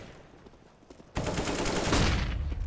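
Automatic rifle fire erupts suddenly in a CS:GO match after a quieter stretch, a loud sustained burst of rapid shots that carries to the end without speech.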